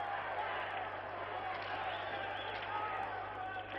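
Spectators at the 1976 Olympic ice hockey game between the USSR and USA clap and roar in a steady, distant, muffled crowd wash, with a commentator talking over it.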